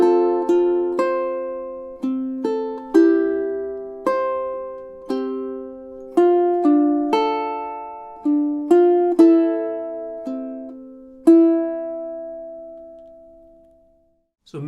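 Plucked ukulele playing the melody of a song from Spirited Away, a gentle sequence of bright, ringing single notes and chords that gradually fade, clear and close with no talking.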